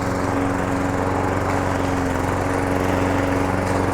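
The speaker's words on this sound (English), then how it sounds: "when you're cutting grass like this, when you've trimmed it and it's piled up and long" A lawn mower cuts long, piled-up trimmed grass, its engine droning loud and steady at close range for the whole stretch, with no one talking.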